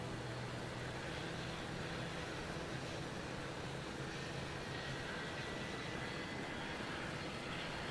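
An airliner departs runway 34 at Melbourne Airport, its engines a steady distant broadband roar that holds even and faint throughout, with no voices.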